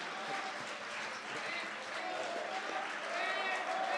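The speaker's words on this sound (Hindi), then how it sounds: "तो तालियां मिलकर बजाइए एक बार जोरदार" Audience applause at a Hindi poetry recital, a dense, steady wash of clapping that fills the room and stays loud and even throughout, with some crowd voices mixed in.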